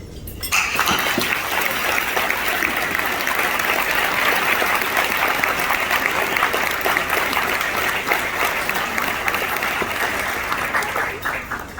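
A large audience at a NOBCChE 2023 gathering breaks into loud, sustained applause welcoming a speaker to the stage, dense clapping that holds steady for about eleven seconds before starting to thin.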